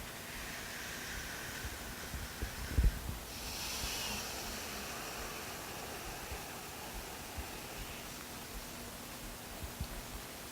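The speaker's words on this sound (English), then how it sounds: "Take a couple rounds of deep breaths at your own." Slow, deep breaths drawn and released in a quiet room, soft and airy with one fuller exhale standing out midway, faint and close with no talking.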